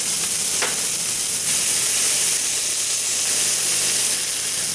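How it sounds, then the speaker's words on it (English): A sirloin steak sears in a hot cast iron pan, giving a steady, loud, close-up sizzle and hiss of frying that runs the whole time, with one brief sharp crackle near the start. "After 3 minutes, we flip the steak and sear the other side."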